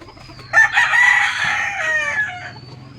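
Chickens in a small coop: a rooster crows loudly and close for about two seconds, with softer clucking from the flock before and after.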